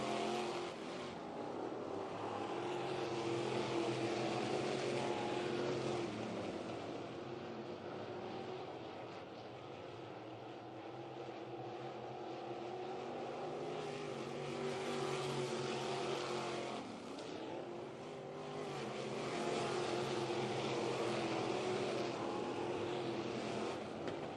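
GM crate sprint cars race on a dirt track, a loud, continuous engine roar that swells and dips as the cars sweep past, sustained throughout.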